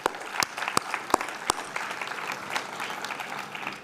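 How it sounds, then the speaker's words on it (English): A round of applause from a seated audience at a public ceremony, opening with a few sharp, separate claps up close before many hands join in a softer, steady patter that carries on. "Let's give a round of applause for that."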